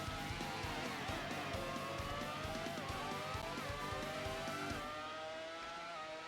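A racing car's engine in a video game holds a loud, steady high-revving whine with rising and falling pitch sweeps as the car races through a lap. The sound thins out and drops near the end.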